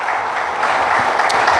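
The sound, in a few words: congregation applauding in church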